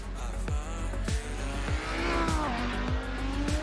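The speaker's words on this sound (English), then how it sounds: "There we go, cars out on track." Race cars heading out on track for a ten-minute qualifying session at a circuit race, several engines revving and passing with a rising, sweeping drone and regular gear-change pulses, loud and fairly close.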